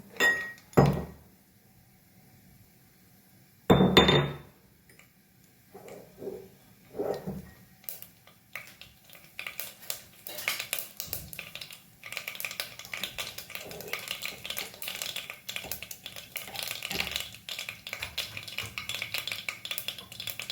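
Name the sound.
mustard seeds added to hot oil in a pan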